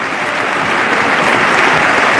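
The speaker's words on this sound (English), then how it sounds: "everybody applaud." Dense, steady applause from a large congressional crowd greeting the President at the 2014 State of the Union, a continuous wash of many hands clapping at even loudness with no voices rising above it.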